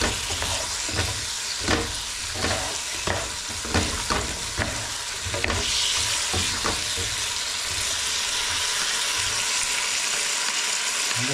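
Big onions frying in a pan with a large amount of sauce, stirred steadily so that scraping strokes sound in a loose rhythm over a constant close sizzle, the stirring fading after a few seconds and leaving only the steady hiss.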